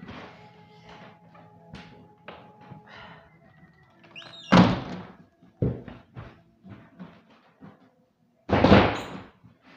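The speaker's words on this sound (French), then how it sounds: "je vais fermer la fenêtre parce que il y a la musique" A window is shut in a room with neighbours' summer music drifting in, giving two loud close thuds a few seconds apart, a softer knock between them and faint rattling and movement before.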